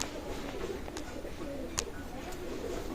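A Kamagar running pair of pigeons coo softly and steadily, with low throaty murmurs continuing throughout alongside a few faint chirps.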